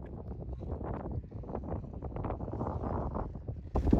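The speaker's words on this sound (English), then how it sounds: "as you can hear, it was very, very windy up there" Strong wind blowing outdoors on an exposed hilltop at castle ruins built by William the Conqueror, loud gusty buffeting rumble hitting the microphone continuously, with a sharper gust near the end.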